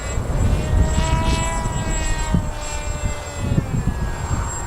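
A Versa Wing 3D model airplane flies in high winds, its propeller whine droning steadily throughout with pitch rising and falling as it maneuvers, close to loud, wind rumble underneath.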